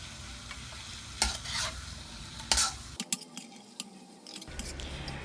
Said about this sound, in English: Stir everything together. Take about 2 minutes or soft as you like.